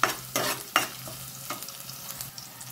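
Chopped onion and garlic hit a hot pan and sizzle, with a few sharp scraping stirs near the start, then a steady frying hiss for a few seconds, close and alone.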